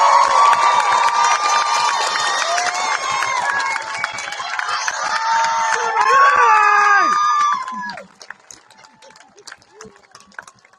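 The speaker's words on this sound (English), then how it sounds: "Let's have one more giant round of applause for the class of 2025" A large high school graduation crowd applauds, cheers and shouts loudly for several seconds, with whoops and screams over the clapping, then the noise drops away abruptly to scattered faint claps.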